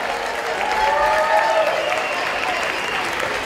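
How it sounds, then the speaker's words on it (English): Audience applause breaks out at a school charity auction after a parking spot sells, a dense, steady clapping from a large crowd that swells slightly and holds for several seconds. "Let's give her a nice round of applause"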